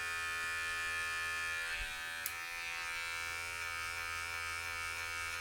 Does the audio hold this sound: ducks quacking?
no